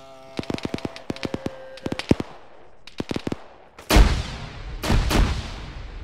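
Frag grenades exploding in a video game: two heavy, booming blasts with rumbling decay, close and loud, after several quick bursts of sharp gunfire. No voices.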